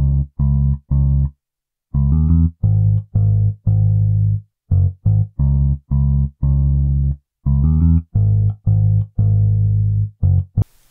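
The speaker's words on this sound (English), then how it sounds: "I then added a bass from Modo Bass," Punchy MODO BASS "Thunder Bass" preset bass notes in a driving rhythm, deep and loud, with brief gaps between phrases.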